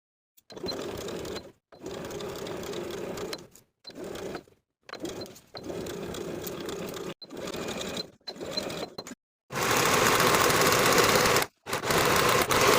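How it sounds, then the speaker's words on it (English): A sewing machine stitches the side seam of a pair of relaxed barrel-leg pants from top to bottom, running close and steady in about eight separate bursts with short pauses between them, the last runs longest and loudest. "We're going to sew from top to bottom of this side seam with a 3/8 inch seam allowance"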